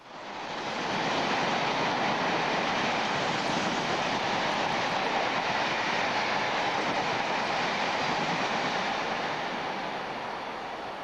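A British Rail Class 47 diesel locomotive hauls a train past in a steady, loud broadband roar that swells in over the first second and holds without letup, with a faint rhythmic rail clatter underneath.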